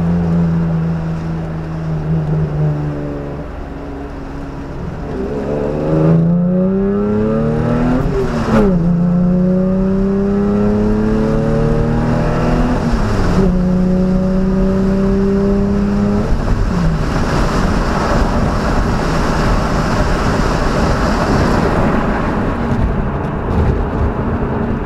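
A car with a cylinder mod and a ported, polished intake manifold accelerates hard in second gear. The engine roar is loud and close and climbs steadily in pitch, with clear gear-change dips, and heavy road and wind noise runs underneath.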